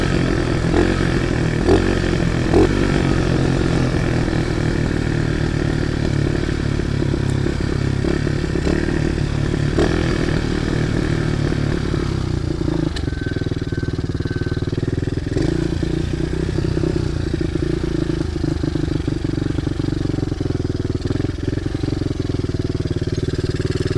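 A pit bike engine drones steadily and close while being ridden with the throttle released, coasting along with a continuous motor hum and some clatter; a rider's voice may be faintly present.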